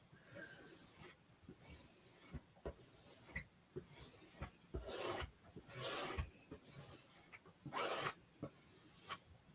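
A squeegee drags chalk paste across a silk screen in a series of close, rasping scrapes, with repeated strokes of uneven length and a few louder pulls toward the end.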